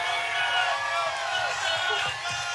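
Dense crowd cheering and roaring along the route of the OKC Thunder victory parade in Oklahoma City, a steady wash of voices close and loud.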